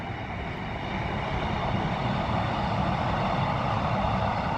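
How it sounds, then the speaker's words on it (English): A train passes near a riverside walking path, giving a steady, broad rumble and roar that holds at an even level throughout, with no voices over it. "Completely not bothered by a train going by."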